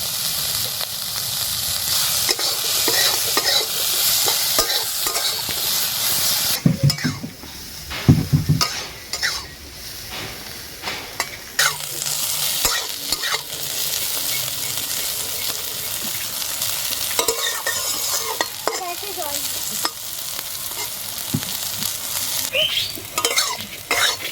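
Salted bitter gourd fries in a pan with a loud, continuous sizzle, broken by frequent clinks and scrapes of a spatula stirring and by a short stretch of rougher clattering partway through; no one talks.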